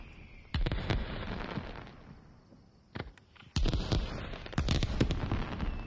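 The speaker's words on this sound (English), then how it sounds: "I do like this nighttime fireworks at the shrine." Fireworks bursting over a nighttime shrine festival in the VR game Summer Lesson, a string of sharp booms and crackles coming in clusters, some close and loud, with quieter gaps between the volleys.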